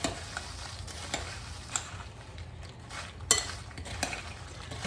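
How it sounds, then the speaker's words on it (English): Oyster crackers are tossed in buffalo seasoning inside a bowl, making a continuous dry rustle and rattle. Occasional clinks from a utensil or the bowl sit above the tumbling, close and moderate in level, with no talking. "And we're gonna add our crackers. Give these a good toss."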